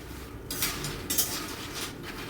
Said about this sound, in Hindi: कढ़ाई में डाल करके मैं भून रही हूँ।